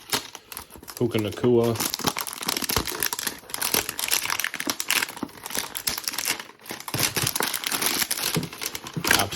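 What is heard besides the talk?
opening Panini Select football card hanger box packaging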